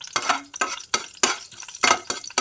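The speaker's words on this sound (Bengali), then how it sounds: "আমি কড়াটা বসিয়ে দিয়েছি, এর মধ্যে জিরা তেজপাতা একটা শুকনো লঙ্কা মশলাটা দিয়ে দিলাম।" Cumin, bay leaf and a dried chilli fry in a small amount of oil in a kadai, with repeated rhythmic scrapes of a spoon stirring over a light sizzle.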